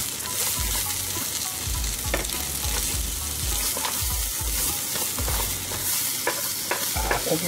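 Lamb meat sizzling on a Genghis Khan grill, a continuous close sizzle with repeated stirring and scraping clatter, no talk.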